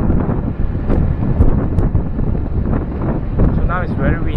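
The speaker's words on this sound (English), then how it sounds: "So now it's very windy." Heavy wind buffeting an action camera's built-in microphone, a loud continuous low rumble with gusty roughness throughout.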